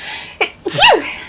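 A single sharp human sneeze, loud and close, with a short intake of breath before the main burst, and a faint voice at the start.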